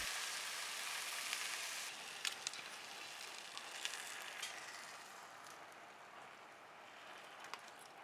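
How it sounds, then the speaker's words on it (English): Cooked syrup poured over hot baked baklava sizzles in a close, hissing crackle, loudest at first and then settling into a softer, steady fizz dotted with small pops. "Now get your cooked syrup and pour it all over."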